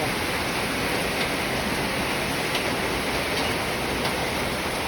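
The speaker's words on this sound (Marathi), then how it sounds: "पाऊस आहे मोठा सुरू आणि त्याच्यात गारा पडतायत" Heavy rain mixed with falling hail pours down around a house, a dense, steady, even hiss with faint scattered ticks and no voices.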